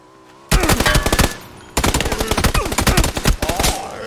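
Gunfire in a multiplayer shooter game: loud, close bursts of rapid automatic fire, one short burst, a brief pause, then a longer sustained stream of rattling shots.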